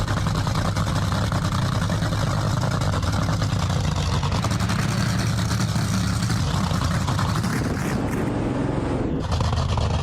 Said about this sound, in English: We're about to watch some amazing AI cars race against each other.